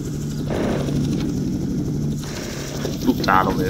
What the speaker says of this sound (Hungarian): De jó, megint itt van egy rohadt helikopter.